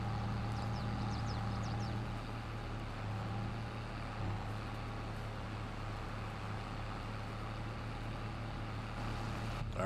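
Case tractor engine in Farming Simulator, a low, steady running hum, faint and even throughout with a few light clicks early on.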